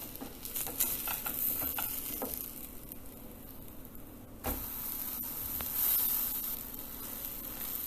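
A potato cheese grilled sandwich sizzling in a pan, a continuous close frying hiss with scraping and a clear thump partway through as it is flipped, no voices.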